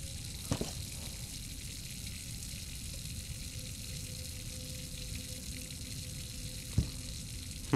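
In the horror game Layers of Fear, water runs into a sink as a steady, faint splashing hiss, with a couple of soft knocks along the way.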